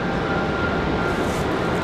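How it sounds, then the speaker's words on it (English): A Delta Boeing 737 departing Raleigh-Durham airport produces a steady, loud jet engine roar that continues throughout with no breaks. "Got a Delta 737 headed out for departure."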